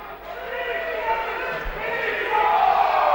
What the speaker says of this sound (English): the "he shoots, he scores" chant coming out from the crowd after the announcement from the PA announcer here in Wing Stadium